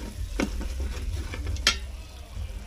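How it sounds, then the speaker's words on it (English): A spoon stirs chicken curry in a frying pan, scraping and clinking a few times over a low steady sizzle, close and alone without any speech. "We'll give that a bit of a stir before we go anywhere else."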